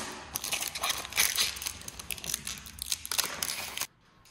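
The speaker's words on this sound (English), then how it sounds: "now you can peel off this plastic film" Protective plastic film peeled off a myQ Chamberlain smart garage door opener, a close crinkling and crackling that runs in quick bursts for several seconds, then stops abruptly into silence.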